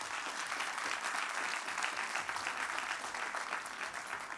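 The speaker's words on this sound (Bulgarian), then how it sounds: "Аплодисменти." A crowd at a young athlete of the year award ceremony claps in a dense, even burst of applause that holds steady throughout, heard from within the hall.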